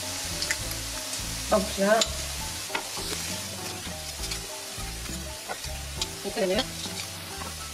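Finely chopped onion and crushed garlic cook in a pan for a vegan chickpea and potato curry, giving a steady close sizzle broken by spoon scrapes and stirring clatter, while a voice speaks briefly over it.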